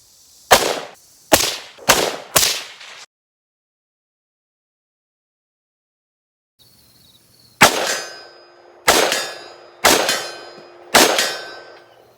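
Suppressed 5.56 rifle fired through a Dead Air Sandman can at a steel target: four quick cracks with short decays, a pause, then four more spaced shots each followed by a bright metallic ring, close and loud.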